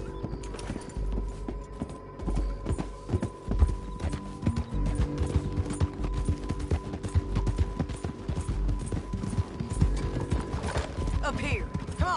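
Horse hooves clip-clop steadily on a road in the Red Dead Redemption video game, a fast, continuous patter of hoofbeats with faint clanking and background game noise.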